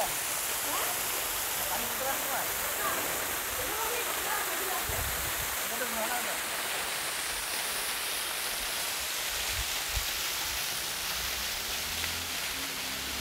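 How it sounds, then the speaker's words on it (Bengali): Water of Richang waterfall in Khagrachari pours down from above, giving a steady broadband rushing roar throughout, with faint voices in the background. "ঝর্ণার পানি পড়তেছে।"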